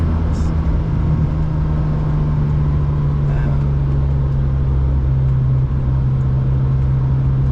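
Steady low engine drone and road rumble from a Ferrari 456 GT being driven, a constant hum heard from inside the cabin throughout without spoken words.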